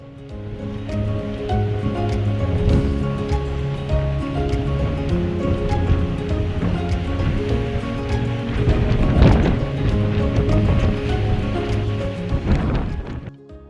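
Sea surf roars in a continuous, loud wash of breaking waves near the Arthur River mouth on Tasmania's north-west coast, with a steady low droning tone running underneath.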